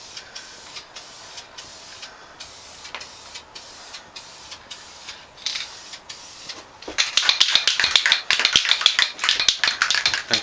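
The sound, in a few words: spray can applying clear coat to a dice tower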